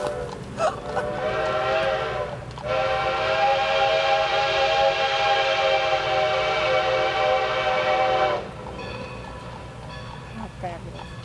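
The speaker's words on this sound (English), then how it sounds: "There goes the train." A train passes through summer Amish country as its whistle blows one long, loud sustained blast lasting several seconds, with shorter toots before and after over rumbling rail noise; people talk nearby.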